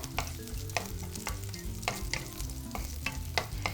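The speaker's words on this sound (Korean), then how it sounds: "부은 곳에 대파가 타지 않도록 골고루 볶아 준비해 주시고요." Sliced green onion stir-fried in cooking oil in a wok for Chinese sweet-and-sour pork, a steady sizzle broken by rhythmic scraping and clanking strokes of the spatula, close and loud with no voices.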